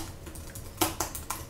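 Computer keyboard keys tapped at a steady pace, several distinct clicks, the strongest clustered in the second half, close and fairly quiet with no voices.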